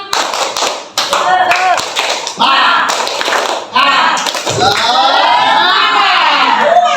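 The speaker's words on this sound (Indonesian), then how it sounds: "Tepuk semangat." Teachers and pupils at an elementary school doing a rhythmic clapping chant together, loud patterned claps mixed with chanted and shouted voices throughout.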